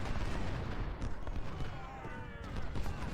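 Musket and cannon fire in the Civil War strategy game Ultimate General: Civil War, at Second Bull Run: a continuous dense clatter of distant volleys with occasional heavier booms, sustained throughout.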